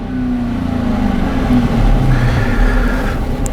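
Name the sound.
2012 Dodge Charger V8 engine given a quick rev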